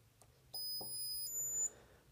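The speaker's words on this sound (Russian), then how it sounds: "Вот, часы запищали. Это значит, что они обнаружили наш смартфон." Amazfit Neo smartwatch giving short electronic beeps as it detects a smartphone during pairing, a few thin high tones over a quiet indoor background.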